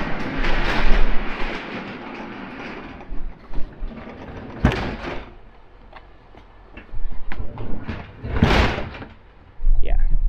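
A garage door closing on a tightly packed garage holding a boat and cars, giving rumbling, grinding mechanism noise with uneven bursts and clunks and a few sharp knocks, fairly loud and close.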